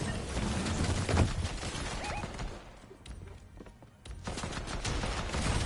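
Rapid gunfire in a shooter video game, a dense run of sharp shots near and loud that thins briefly in the middle before resuming.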